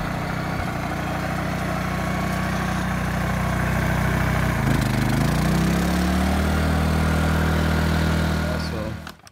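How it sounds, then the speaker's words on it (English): A small generator engine with a bad, rattling cam bearing runs at a steady idle, a loud low drone with a faint rattly clatter throughout before cutting off at the end. "you can kind of hear the bad cam bearing. It has a rattly sound,"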